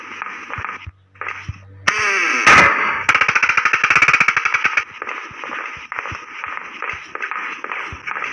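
Gunfire in the Granny House video game, loud rapid bursts of automatic-style shots with sharp repeated cracks, mixed with game sound effects and no speech.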